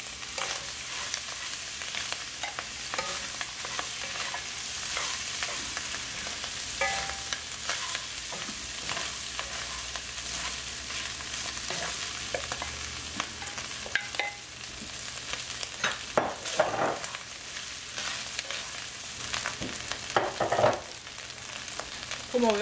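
Rice stirred and frying in a pan for a Chinese-style fried rice with paprika, a steady loud sizzle with repeated scraping strokes of the spoon close by, no talking.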